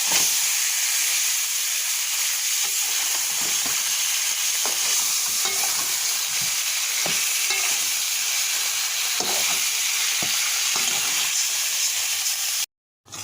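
Chicken meat sizzles loudly in hot oil with spices while a utensil scrapes and stirs the pan in irregular strokes, the frying hiss steady throughout until an abrupt cut.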